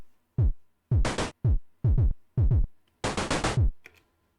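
Pico-8 chiptune drum variation for a brawler game, punchy low pitch-dropping kick hits alternating with harsh bursts of noise snare, a short rhythmic pattern of about nine hits ending in a flurry, clean and alone.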